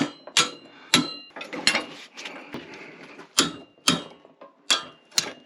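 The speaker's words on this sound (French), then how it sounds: "Petit coup de marteau." Sharp metallic taps of a hammer on a BMX fatbike fork, struck irregularly at close range, interspersed with clinks and mechanical rattling.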